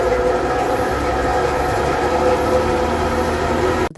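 Wooden shoe carving machine with a spinning knife, driven in a workshop by a steam engine over a century old. It makes a loud, dense, steady roar with rattling clatter throughout, then cuts off abruptly at the end.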